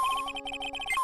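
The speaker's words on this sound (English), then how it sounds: "That's the sound of the metal detector signal bouncing off something metallic." Ace Attorney game metal detector signal: a fast run of electronic beeps, steady and pulsing with a sustained tone at the start and end, fairly faint and alone.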